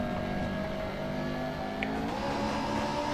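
A Honda Civic SI 2.0-liter engine in the NR2003 racing game revs steadily at a high, droning pitch, holding a continuous buzzing tone with slight rises, with no talking.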